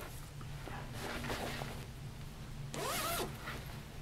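A zipper on a handmade travel clutch is pulled open in a quiet room, giving a faint scratchy rasp, then a louder, quicker zip near the end.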